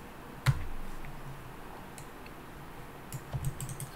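Keyboard keys are pressed on a computer during Maya animation work: one sharp, close click, then a quick pair of clicks near the end, over quiet room tone with no talk.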